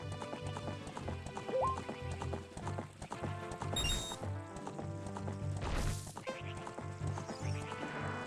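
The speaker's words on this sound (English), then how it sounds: "Let me just park my horse." Horse galloping in the video game Ocarina of Time, a steady clip-clop of hooves with an occasional whinny, set over looping game music with no talk.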